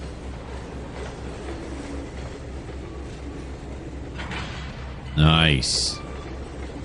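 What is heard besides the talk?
train cars coupling in a video game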